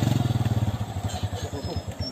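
A motorcycle engine idles near at hand with a rapid, pulsing putter that loosens and turns uneven as it sputters, as if low on fuel.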